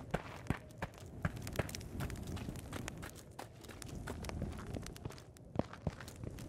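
Footsteps in an Unreal Engine game demo walking across changing surface materials, a steady run of distinct close steps over a faint ambient bed, with no talk.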